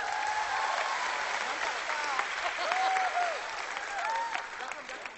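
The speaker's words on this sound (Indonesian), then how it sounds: "Berikan tepukan." An audience at a concert claps in a moderate, steady round of applause, with a few singing or cheering voices rising over it.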